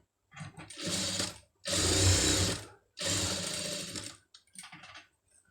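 A sewing machine stitching a sleeve made from saree cloth runs in three close, loud bursts of rapid whirring stitches separated by short pauses, followed by a few softer clicks.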